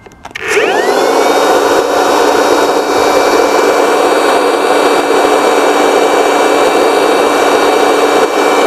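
A cordless handheld leaf blower switches on and spins up within a second, then holds a loud, steady whooshing roar with a high motor whine, close and unbroken.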